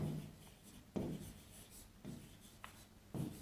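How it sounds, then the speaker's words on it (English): A pen or marker writes a heading by hand in a few short scratchy strokes separated by brief pauses, faint and close, with no talking. "Now let me write the heading here."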